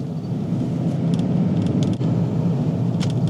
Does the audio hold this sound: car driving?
yes